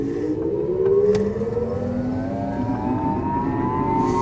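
An electric Porsche 914 drives off, its motor giving a rising, smooth whine that climbs steadily in pitch over a low road rumble, heard from inside the car with no voices.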